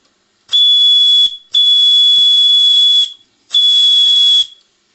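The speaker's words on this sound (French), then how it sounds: "Donc, un son aigu qui joue avec la pression, bien sûr." A Microcosm JW live-steam bell whistle gives three loud, shrill, steady-pitched blasts close by, the middle one longest, separated by short silences.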